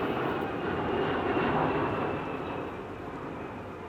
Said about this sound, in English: We're about to welcome home our TBM Avenger after more than a year of restoration to honor President George H.W. Bush